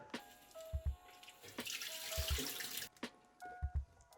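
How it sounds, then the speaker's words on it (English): Mushrooms rinsed under cold running tap water at a kitchen sink; a steady, moderately quiet splashing stream runs for a few seconds with brief handling knocks, and no one speaks. "So I'm just gonna put these in the tap, cold water, clean them off,"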